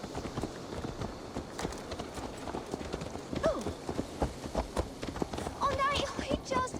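Horse hooves clip-clopping in Assassin's Creed Valhalla, a quick irregular run of close, sharp hoof strikes on hard ground, with voices talking over the steady trotting rhythm.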